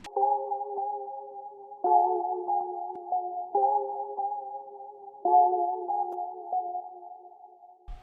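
Melody resampled down to a 1000 Hz sample rate in Edison inside FL Studio, a dark, muffled, narrow-band tone line that steps through phrases at moderate volume with little high end, no talking.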